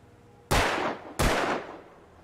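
Two loud, close gunshots ring out in Alan Wake Remastered, spaced less than a second apart, each a sharp crack with a long decaying tail, and nothing else sounds.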